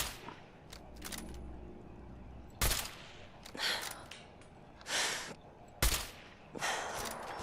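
Gunfire aimed at a turret in Fallout 4: several sharp, loud shots spaced irregularly over a low rumbling game backdrop, each a sudden broadband crack with a short tail.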